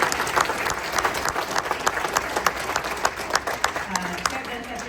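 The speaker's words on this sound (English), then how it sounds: "If we can give him a big round of applause." A hockey banquet audience gives a big round of applause, with dense, steady clapping and a few sharper individual claps standing out, holding at an even level throughout.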